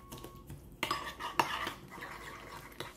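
Herbs and a stock cube are mixed into a spicy chicken wing preparation, with a metal utensil clinking and scraping against a pot in a few sharp knocks followed by softer stirring, close up and quiet, with no voices.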